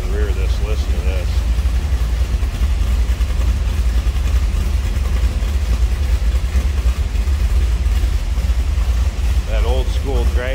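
A 1962 Plymouth Belvedere 440 V8 drag-style car idling from behind at the rear, a steady deep rumbling exhaust throughout, with someone speaking briefly over it at the start and end.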